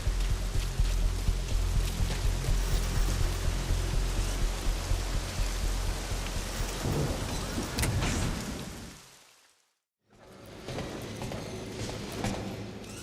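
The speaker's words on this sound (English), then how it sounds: "it looks like it's started to rain" Rain falls at Mother Base in Metal Gear Solid V, a steady broadband hiss of drops pattering on surfaces. It fades briefly to near silence before resuming at a slightly lower level.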